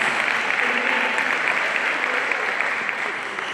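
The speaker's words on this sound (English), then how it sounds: "They all deserve a tremendous round of applause" A sustained round of applause from an audience at a commemorative breakfast honoring board members, dense and even clapping that tapers slightly toward the end.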